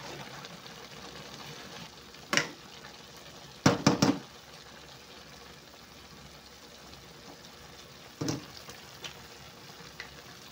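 Broccoli and cauliflower simmer in a covered pot, giving a quiet, steady bubbling hiss broken by a few sharp clinks and clatters, close by and with no speech.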